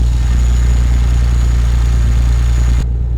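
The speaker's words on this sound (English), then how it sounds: "just listen to this engine" A Detroit 60 Series truck diesel engine in American Truck Simulator idles with a steady, deep rumble and a faint high whine, continuous and close, cutting off near the end.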